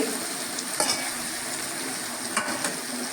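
Spiced mixed vegetables cooking in a pan give a constant close sizzle, broken by a few scraping strokes of a spoon as they are stirred.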